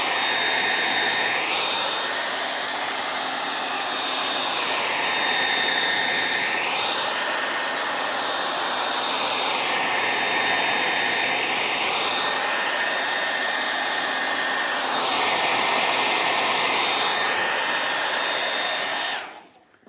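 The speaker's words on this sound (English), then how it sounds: "I think I can definitely throw my dryer on this real quick" A hair dryer blows close and loud for about twenty seconds while drying Van Dyke glaze on an old barnwood frame, its steady roar rising and falling in pitch as it sweeps back and forth before cutting off.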